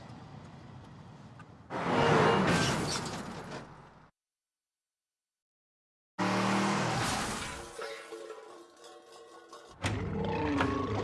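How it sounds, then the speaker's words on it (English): Car spinning 180 degrees in reverse during a driving test: two bursts of roaring engine and screeching, squealing tires, separated by a couple of seconds of silence, the second with whining tire squeal that cuts off and resumes. "Canada's worst drivers will do a 180-degree spin out in reverse."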